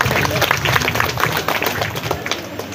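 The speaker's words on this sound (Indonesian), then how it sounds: "Boleh kita berikan tepuk tangan?" An audience at a National Children's Day ceremony in Indonesia claps loudly in a dense, continuous burst of hands, with crowd noise mixed in.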